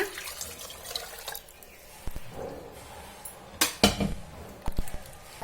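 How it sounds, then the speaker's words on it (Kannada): Water is poured into mashed greens (galjeru soppu) in a bowl, with uneven splashes, trickles and a few louder pours close up, alongside light clinks of the vessel. "ಈಗ ಈ ನೀರು ಸೇರಿಸ್ಕೊಳ್ಳೋಣ"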